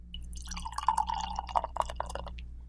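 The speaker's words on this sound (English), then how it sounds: "Let me get a pour next to the mic." Beer pours from a bottle into a cup close by, a series of splashy trickles and glugs building over a couple of seconds, with faint room noise beneath.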